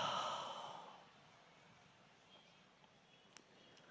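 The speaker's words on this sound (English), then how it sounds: "take a deep breath in, hold the breath, and then breathe out." A single deep exhalation during a guided meditation, a soft breathy sigh that fades within about a second, followed by quiet room tone.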